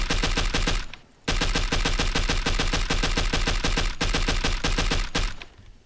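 A BAS-B rifle modeled on the SIG XM7 Spear, with a 45-round magazine, fires in Fallout 4: loud, rapid sustained automatic bursts broken by two brief pauses, with no talking.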